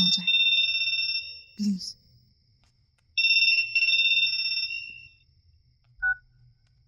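A telephone rings in a Hindi thriller scene, two bursts of electronic trilling ring separated by a pause, loud and close, with brief speech between the rings and a short beep near the end.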